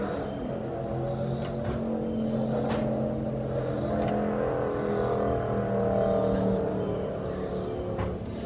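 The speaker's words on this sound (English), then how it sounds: "Somebody's Mustang" Ford Mustang engine running steadily with a low, humming drone that holds at an even level throughout, heard outdoors at a moderate distance with no talk over it.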